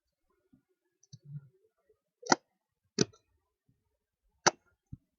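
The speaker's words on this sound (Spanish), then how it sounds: "le damos clic derecho para el archivo" A computer mouse is right-clicked on a desktop, giving a handful of crisp, sharp clicks spaced unevenly apart, close and fairly quiet against near silence.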